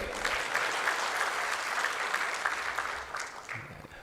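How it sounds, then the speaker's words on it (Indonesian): Audience applause for an organizing committee chair at an Indonesian speech event, a sustained wash of many hands clapping that tapers slightly near the end. "Tepuk tangan untuk ketua panitia ini."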